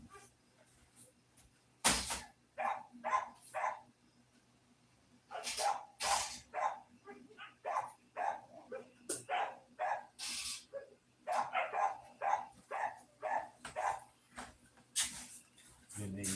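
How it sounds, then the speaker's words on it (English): Several dogs bark outside in a yard, sharp repeated barks coming in bursts with short gaps, some louder and nearer, a faint steady hum underneath. "I'm gonna see what's wrong with my dogs while they bark because they don't want them on."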